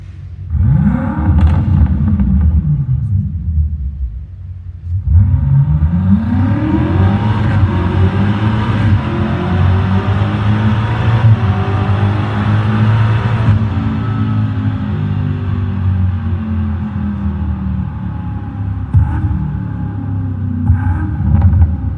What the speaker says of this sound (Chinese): 这具引擎呢，在高转速的那种高亢跟澎湃，相当的热血沸腾；在低转速的低鸣怒吼